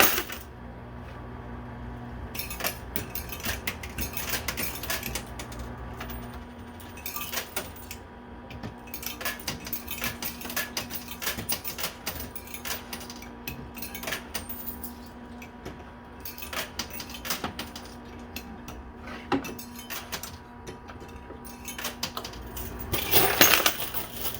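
Quarters clink and clatter in quick bursts as they drop and slide against each other in a coin pusher machine, against a steady electronic arcade hum, ending with a louder cascade.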